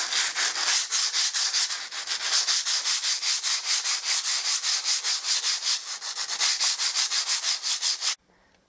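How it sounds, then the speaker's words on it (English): Sandpaper rubbed by hand across a freshly plastered wall, loud and close, in steady rhythmic strokes of roughly three or four per second that continue evenly for about eight seconds before stopping abruptly. "It's also a good idea to make sure you only sand one direction on the wall."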